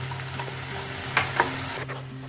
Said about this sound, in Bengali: তারপর এর মধ্যে ভেজে রাখা বাদাম আর বড়িগুলো আমি দিয়ে দিলাম। এগুলো একটু নাড়াচাড়া করে নেব।